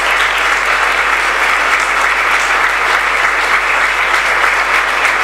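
Sustained crowd applause for a municipal band at a mayoral inauguration ceremony, a dense, even clapping that stays loud and close throughout.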